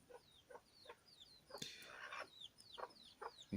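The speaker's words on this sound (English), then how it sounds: "I have a chicken friend here." Chickens cluck in the background, a string of short, fairly quiet calls repeating roughly every half second. A brief louder burst of noise cuts in partway through, and no one speaks.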